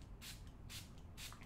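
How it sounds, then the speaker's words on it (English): Three short, evenly spaced hissing spritzes from a COSRX Centella Water Alcohol-Free Toner spray bottle, each a soft, wide mist burst against a quiet room. "It's like a very wide spray."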